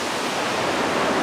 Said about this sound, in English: it's not a very big waterfall anyway, or the main part isn't